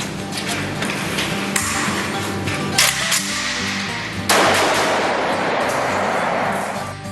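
Gunshots fired point-blank at bulletproof vehicle glass, loud sharp cracks at intervals with a heavier impact near the end, ringing decay and background noise between shots, no talk.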